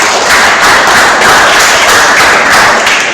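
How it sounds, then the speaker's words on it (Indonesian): Classmates in a school classroom clap together for a student's answer, a steady, loud, dense patter of hands lasting a few seconds without talk. "Bisa kita kasih tepuk tangan dulu teman-teman"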